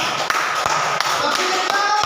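Classroom of children clapping their hands, a loud dense patter of sharp claps with occasional stronger thumps, close and continuous, with faint voices mixed in.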